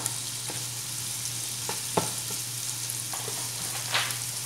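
Onions cooking in a pan give a faint, steady sizzle over a low hum, with a few scattered soft clicks and scrapes from stirring, no voices.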